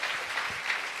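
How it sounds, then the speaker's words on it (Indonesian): A congregation claps during a church worship service, a brief, steady burst of many hands applauding together at moderate loudness. "Berikan tepuk tangan kita untuk Tuhan."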